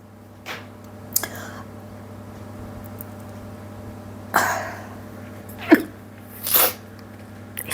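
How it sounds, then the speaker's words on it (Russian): A few short, breathy bursts like stifled sneezes or throat clearing come from a nearby speaker in an otherwise quiet room. "Но мне все время хочется чихнуть."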